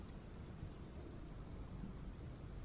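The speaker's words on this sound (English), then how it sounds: "I don't know why it always makes the rain sound when I'm joining." Steady rain with a low rumble of thunder in the Path of Titans video game, a dense unbroken wash of falling water that stays faint and even throughout, with no voices.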